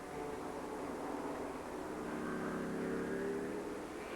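A Ford GT40 race car with its big Ford V8 engine roars past as a steady, faint drone, its engine note holding at a distance with a slight rise midway.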